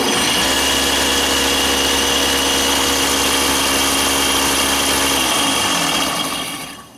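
A Delta drill press motor runs with a steady, loud mechanical hum and a high whine, then winds down and fades out in the last second.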